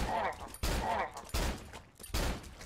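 Gunfire in the horror game Cry of Fear: four sharp, loud shots at roughly even intervals, each with a broadband crack and a short decaying tail.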